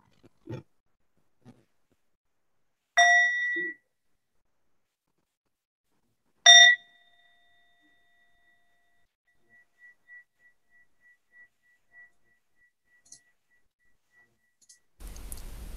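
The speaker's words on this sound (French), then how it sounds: "Je vais inviter un son cloche d'abord." A meditation bell is struck twice in a quiet room, each strike a bright clear ring, the second sustaining and fading slowly into near silence before a soft voice begins.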